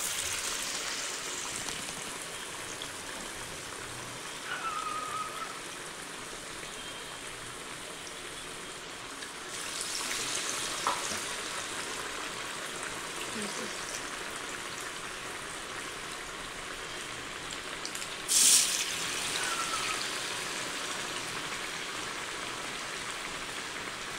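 Bread pakoda slices coated in spiced batter deep frying in hot oil, a steady soft crackling hiss throughout with a few brief louder bubbling bursts, no talking.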